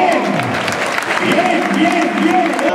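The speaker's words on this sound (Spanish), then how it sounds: "Y ese fuerte aplauso, vamos a dárselo" Steady applause from a bullfight crowd, continuous and fairly loud, with some cheering and a voice faintly underneath.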